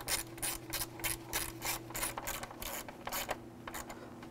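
Ratchet tightening down the timing cover bolts on a 2000-2006 Chevy Tahoe, a quick run of rhythmic clicking strokes, about a dozen close and crisp, over a steady low hum.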